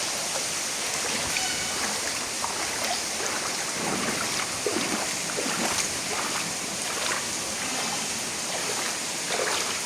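Floodwater rushes and churns through a flooded temple, flowing steadily up the steps and filling the inner halls. It sounds like a loud, continuous wash close by, with faint voices barely audible under the roar.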